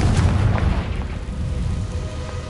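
Heavy booming blast of a Confringo fire spell in the Hogwarts Legacy video game, a loud low rumble that swells at the start and rolls on steadily through the whole moment.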